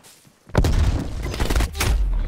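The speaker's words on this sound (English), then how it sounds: "Sending frag grenade." In Call of Duty Black Ops Cold War, a frag grenade blast hits suddenly after a quiet moment. A heavy, loud boom is followed by rumbling debris and a rush of noise that stays dense to the end.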